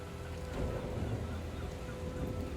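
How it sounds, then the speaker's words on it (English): Rainfall in The Division 2 video game, a steady, dense hiss over a low rumble, even and unbroken throughout. "That rain effect's a little bit meh."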